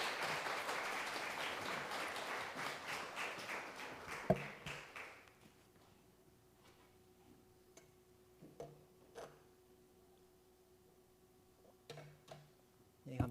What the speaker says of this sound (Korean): 우리 한번 뜨겁게 격려의 박수 해주실래요?